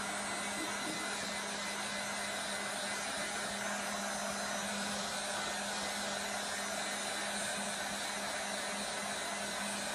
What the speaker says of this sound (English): And the heat gun's going to help that.